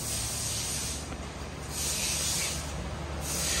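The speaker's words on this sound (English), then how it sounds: "Always got a blowgun in the background when I'm trying to talk" Compressed air from a workshop blowgun hisses loudly and continuously, swelling in a few long bursts close by, with no talk over it.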